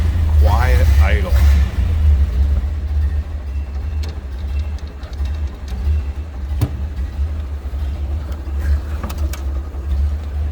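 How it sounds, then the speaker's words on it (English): A 1930 Ford Model A 5-window coupe engine idles low and quiet, a steady deep rumble heard up close by the firewall, with a brief voice near the start. "This one has a very low, quiet idle."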